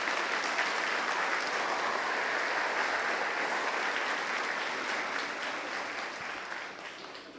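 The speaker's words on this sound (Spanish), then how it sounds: "Demos un aplauso a Jesucristo por ello." A church congregation applauds during a Sunday service, a dense, sustained clapping that stays even before fading toward the end.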